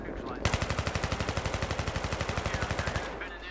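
Sustained machine gun burst in the Battlefield 3 video game: a rapid, evenly spaced string of loud close shots lasting about two and a half seconds, then stopping abruptly.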